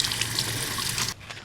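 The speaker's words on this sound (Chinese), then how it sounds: "这个音乐是冲水的声音" Japanese toilet sound feature playing a recorded flushing-water effect, a steady close rush of running water that cuts off sharply near the end, leaving a quiet room.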